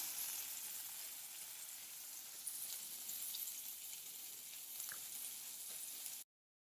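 A burger patty fries in a lightly greased pan with a faint, steady sizzling hiss that holds evenly before cutting off abruptly near the end.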